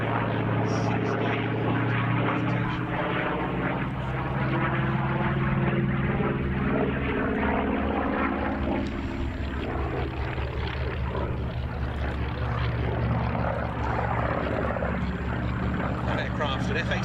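An F8F-2P Bearcat, a photo reconnaissance version of the propeller fighter, drones steadily overhead at the Battle of Britain airshow at RAF Duxford, its piston engine a sustained loud roar with slight shifts in pitch, and a commentator's voice running underneath.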